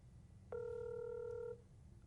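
A phone call rings out with one steady electronic ring tone lasting about a second, faint against low background hum, then quiet again.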